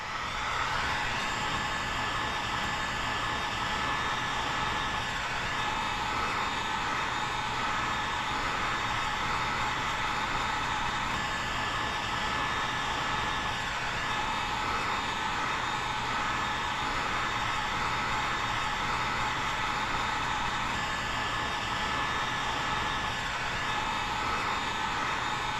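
Heat gun blowing steadily while heat-shrinking rear window tint film, a constant close fan hiss and whir that stays unbroken throughout.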